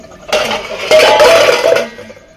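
Pots, plates and utensils clatter and clink loudly nearby as a few dishes are washed by hand, with two busy bursts of ringing metal contact and no speech.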